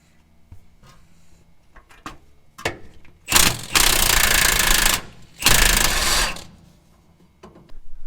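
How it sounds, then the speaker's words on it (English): Metal cutting through welded steel shock mount plates on a 4wd truck, two loud sustained bursts of harsh grinding noise each lasting about two seconds, separated by a short pause, with quieter clanks and shop clatter around them. "So we're gonna go ahead and cut this off and move the shock back down where it's supposed to be."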